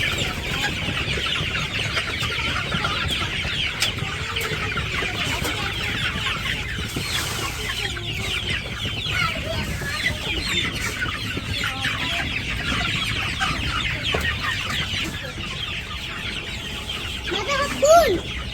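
A flock of chickens clucking steadily throughout, dense and close, with occasional louder squawks and faint speech in the background.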